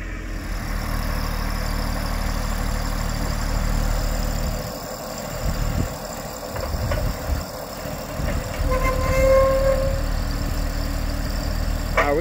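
A steady, low tractor engine rumble runs throughout, idling evenly with a few faint clanks and a brief higher tone near the end.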